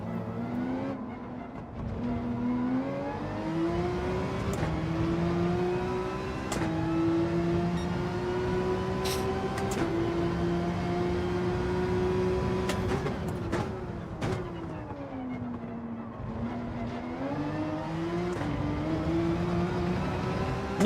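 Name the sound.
Porsche race car engine in Gran Turismo 7 video game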